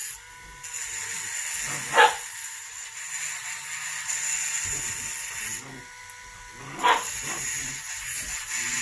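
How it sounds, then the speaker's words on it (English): Faint barks and yips of playing puppies sound in the background, two brief sharper barks standing out over a steady whining hum. "You can hear my puppies in the background."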